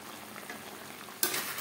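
Marinated chicken with onions cooking over a high gas flame in a kadai, a quiet steady hiss that suddenly jumps to a loud, bright sizzle near the end, with no talking.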